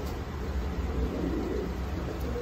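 Danish pigeons coo softly amid steady low background noise, a continuous murmur of several birds nearby with no speech.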